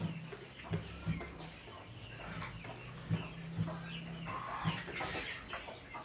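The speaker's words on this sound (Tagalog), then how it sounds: "Ito yung manok na kahit hawakan mo, kahit ano, walang paki." A chicken clucks in short, low bursts spaced irregularly, fairly close, with a brief higher squawk near the end and faint background noise.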